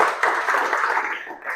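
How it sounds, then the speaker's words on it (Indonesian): A room of participants at a counselling workshop breaks into a short burst of applause, a dense, even patter of clapping that tapers off quickly. "Boleh tepuk tangan dulu buat semuanya."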